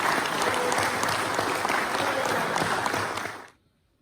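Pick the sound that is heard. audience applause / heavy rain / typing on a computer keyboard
audience applause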